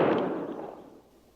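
A single rifle volley fired by a funeral detail at a graveside service: one sharp, loud report whose echo fades and trails off over about a second.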